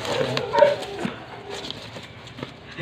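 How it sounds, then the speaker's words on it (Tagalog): A young Doberman puppy whimpers and yips in soft, high-pitched bursts, close by, with faint background voices and household noise. "Isang puppy ng dog, dog, Doberman."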